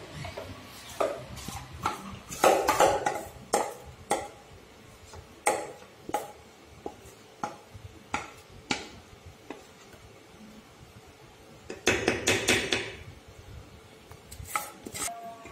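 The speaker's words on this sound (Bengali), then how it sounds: "ব্যাটারটা আমি ঢেলে নিয়েছি" Homemade cake batter is scraped from a bowl into a tin, heard as repeated close clinks and scrapes of a spoon against the dishes, irregular and clattery, with a busier burst of scraping near the end.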